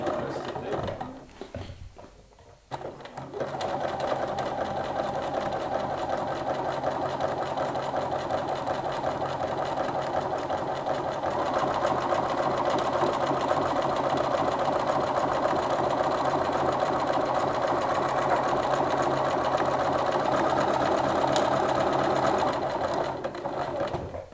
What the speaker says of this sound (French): Et je fais mon plaquage avec un point zigzag.